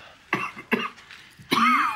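A person coughs three times, close and loud, with the third cough longer and rougher as it tails off, and no one speaks.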